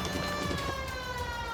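Police car siren wailing in the L.A. Noire video game, a loud rising and falling tone over engine and traffic noise during a brief car chase.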